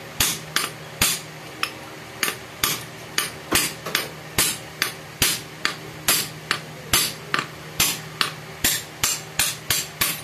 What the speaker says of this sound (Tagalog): Tapos pupukpukin nyo lang.